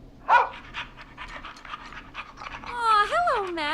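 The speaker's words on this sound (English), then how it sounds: "my emotional support dog" An emotional support dog, a rescue, pants in the video game Killer Frequency, with quick rhythmic breaths followed by a rising whimper-like whine near the end, heard up close.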